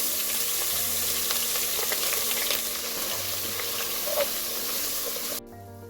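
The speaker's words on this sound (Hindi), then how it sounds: "अब हम इसमें 3 टेबल स्पून अदरक लहसुन का पेस्ट ऐड करेंगे।" Ginger garlic paste hitting hot oil, a bright continuous sizzle and hiss with faint stirring sounds, steady then cutting off abruptly near the end.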